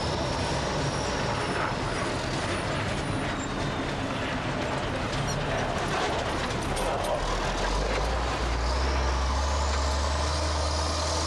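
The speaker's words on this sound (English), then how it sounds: "There's a shit truck." A sewage truck drives past, heard from inside a vehicle as a loud, steady low rumble of road and engine noise that builds toward the end.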